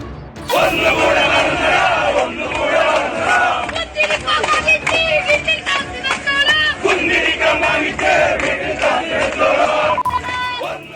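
A large, loud crowd at a PFI march shouts slogans in unison, voices rising and falling in continuous rhythmic chant with occasional sharper calls standing out.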